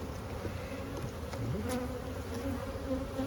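Honeybees hum steadily inside the hive's brood nest, a dense close buzz with individual bees droning past at shifting pitch.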